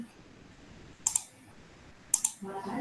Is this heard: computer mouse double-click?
yes